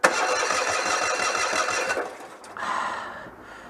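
A Citroën 2CV engine revs hard for about two seconds, drops off, then picks up again at a lower pitch, a close, buzzy mechanical drone with no talking.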